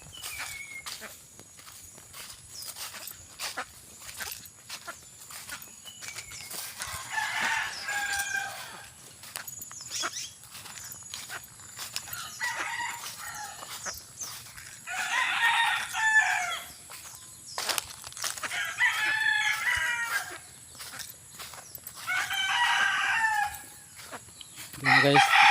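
Several chickens cluck and a rooster crows in bursts across the scene, mid-distance, with scattered footsteps and faint background noise.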